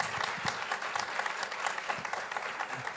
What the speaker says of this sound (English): a big applause to everyone who's already here and made it here.